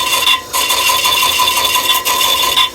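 Stone being worked with a grinding wheel, heard as a loud continuous abrasive rasp with a steady high whine, close up, with brief dips as the wheel lifts off and comes back to the stone.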